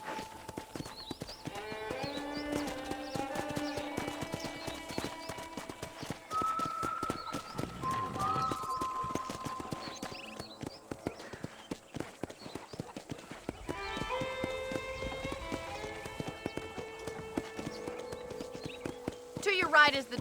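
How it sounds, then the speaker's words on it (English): Horse hooves clip-clop in a steady rhythm on a ranch in the video game Red Dead Redemption, running beneath a character's voice and a musical score throughout. "I picked out a fine horse for you."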